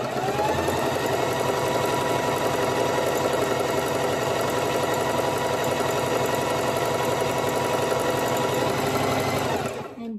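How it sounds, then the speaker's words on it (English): Sewing machine stitching two layers of tutu fabric, running continuously and loudly at a steady fast rhythm for about ten seconds, then stopping at the end; no talking. "Let me sew a little bit more."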